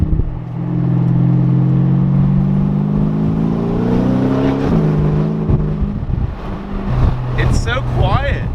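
A Porsche Panamera Turbo with a new exhaust pulls under load, its engine note rising steadily then dropping as it shifts, loud and close, with people talking over it.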